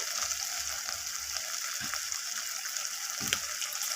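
Spice paste with ginger paste and salt being stirred and sautéed in a pan for a bata fish curry: a steady, close, hissing sizzle with a few low scrapes and knocks from the stirring.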